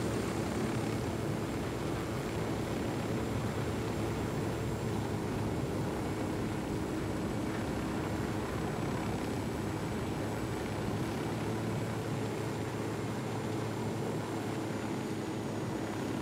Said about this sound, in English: We just yoinked their helicopter.